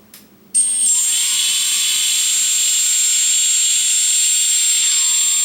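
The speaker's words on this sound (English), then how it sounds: "Now I am going to give some throttle and the motors will start rotating." Quadcopter brushless motors spinning up under throttle on a test frame: a short clatter, then a sudden loud, steady high-pitched whine that holds evenly to the end, close by and alone.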